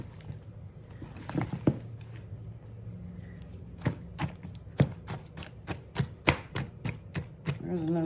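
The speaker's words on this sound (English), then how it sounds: "I want to get it stirred up real good because I didn't scramble that egg before I put it in there" Pork ravioli filling with a raw, unscrambled egg is stirred in a bowl, giving a run of sharp, close taps and clinks in a loose, steady rhythm, with no talking.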